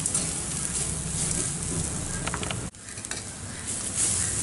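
Carrots sautéing in a pan with chilli and turmeric powder, giving a steady close sizzle with a soft stirring scrape, briefly dipping before the frying hiss resumes, and no talking.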